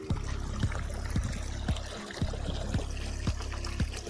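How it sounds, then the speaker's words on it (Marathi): Irrigation water flows into a farm field with a steady trickling, gurgling rush, broken by regular soft knocks or splashes roughly every half second, close and moderately loud with no voices. "आलं पाणी."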